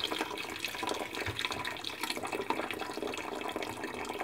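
Water runs steadily from a tap into a pot for white okra soup, a continuous close splashing rush with no voices.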